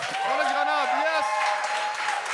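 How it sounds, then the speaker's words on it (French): Studio audience applause at a French television talent show taping, loud and continuous, with a voice talking over the clapping. "Est-ce qu'on peut l'applaudir, s'il vous plaît?"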